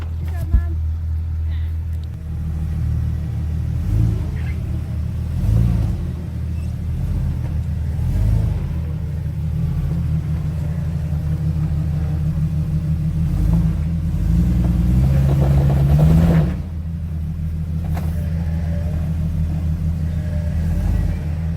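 An off-road Jeep on 35-inch tires crawls over rough trail ground, its engine a steady, close low rumble that swells into a brief rev near the end while a person talks over it.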